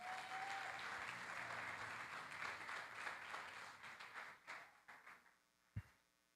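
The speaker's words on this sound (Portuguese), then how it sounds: "Vamos aplaudir a Jesus pela vida dessa mulher." A church congregation applauds steadily, a dense wash of clapping hands from a crowd in a hall that thins out and fades toward the end, closing with a single sharp knock.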